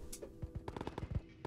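A quick burst of gunfire in a VR video game, several sharp shots in rapid succession, fairly faint and slightly distant, with a game-like quality.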